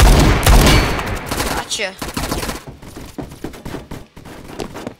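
Rapid bursts of automatic gunfire from a Fortnite match crackle loud and close, dense at first then breaking into shorter volleys, with a brief spoken word in between.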